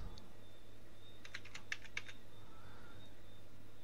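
Brief bursts of fast keystrokes on a computer keyboard, a handful of close, crisp clicks in the middle of a quiet stretch with a faint background hum.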